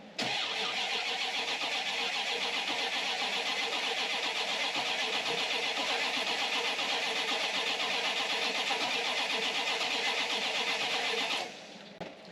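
A classic car engine cranks steadily for about eleven seconds under a remote starter, loud and even with a churning rhythm. The carburetor is getting no fuel, so the engine never catches, and the cranking stops abruptly.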